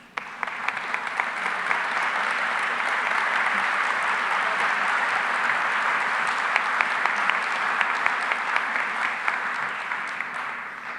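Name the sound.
audience applause for Jim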